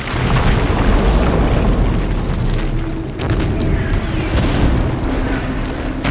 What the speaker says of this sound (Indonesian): keesokan harinya yang dibuka langsung dengan serangan artileri